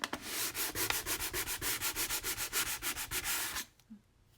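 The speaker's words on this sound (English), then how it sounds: "I don't like sanding it while it's wet" Sandpaper rubbing over dry egg tempera paint on wood in quick back-and-forth strokes, about twenty close, rhythmic scratchy passes, then stopping abruptly into near silence.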